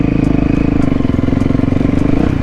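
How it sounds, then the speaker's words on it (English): A small mini bike engine putters loudly and close in the desert, a rapid even pulsing chug held steady throughout. "we got a little mini bike gang up there"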